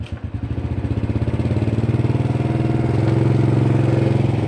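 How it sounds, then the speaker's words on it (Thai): Motorcycle engine while riding, a close, loud, rhythmic thumping chug that steadies into a continuous throbbing drone as the bike moves along, with no voices. "สิพาขี่รถรถจักรไปเนาะ"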